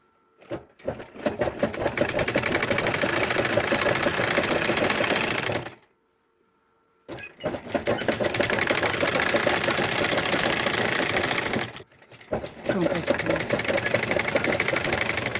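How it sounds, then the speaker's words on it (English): A sewing machine stitches fabric for a cap in fast, rattling bursts, stopping briefly twice before starting up again, close and loud. "I'm going to take it to my sewing machine. Then I will stitch it down."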